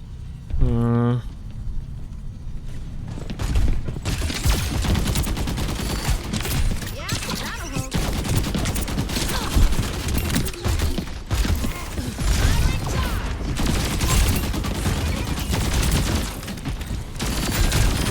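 Rapid gunfire from a hero's weapons in the Overwatch video game rattles almost continuously, dense bursts and clicks stacked over game effects, loud and close, while a person talks over it.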